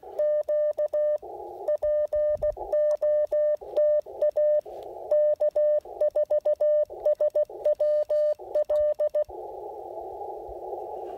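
Morse code from an Icom IC-705 transceiver on a semi-narrow CW filter during an outdoor park activation: a steady sidetone beeping out rhythmic dots and dashes in bursts, then giving way to a band of hiss near the end.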